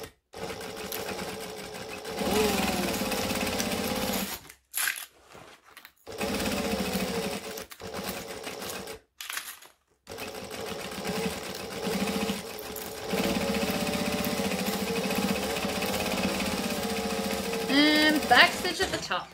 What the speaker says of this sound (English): Stitch and then back stitch, and then off we go.